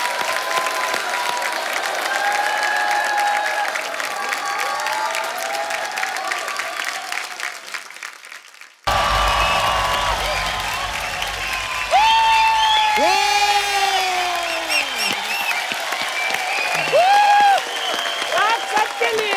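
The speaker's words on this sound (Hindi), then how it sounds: "जोरदार तालियां हो जाएं।" Studio audience on The Kapil Sharma Show breaks into loud applause, broad crowd clapping running throughout, with music entering partway and a voice singing over the ongoing clapping.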